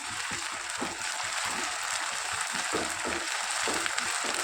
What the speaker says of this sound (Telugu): ఈ అల్లం వెల్లుల్లి పేస్టు బాగా వేయించుకోవాలి తాలింపులో.